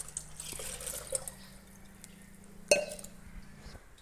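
Sour buttermilk is poured into a plastic container to make a plant-feeding solution. Soft trickling and scattered drips are punctuated by one sharp clink partway through, all fairly quiet.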